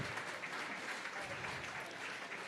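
Audience applauding a raffle winner at an auction event, a continuous close wash of many hands clapping at steady loudness for the whole stretch.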